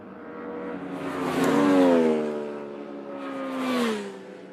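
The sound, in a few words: racing motorcycles passing on the start straight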